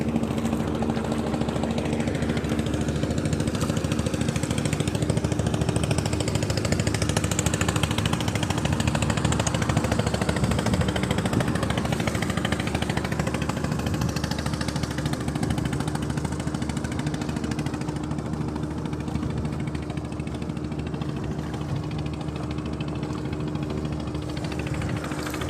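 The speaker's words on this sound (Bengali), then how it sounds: "বিশাল এক জাহাজ আসতেছে আমাদের সদরঘাট অভিমুখে।" A large ship's engine drones steadily as the vessel approaches Sadarghat river port, a continuous low rumble with a thrumming hum and surrounding river noise throughout.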